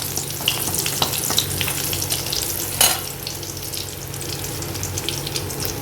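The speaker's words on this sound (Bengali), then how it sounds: "এবার আমি আগে রসুনটা তেলে দেব, একটু নাড়াচাড়া করে" Crushed garlic hits hot oil in a pan and is stirred, a close, steady crackling sizzle with one sharp burst of spitting near the middle, no voices.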